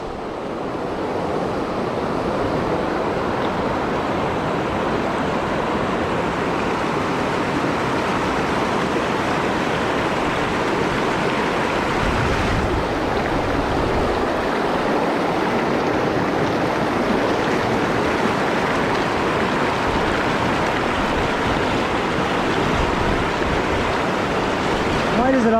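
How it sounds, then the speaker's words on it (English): Rushing river water roars steadily and loudly around a solo hiker wading across a river on the Idaho Centennial Trail, with wind buffeting the microphone throughout. "Let's cross this river."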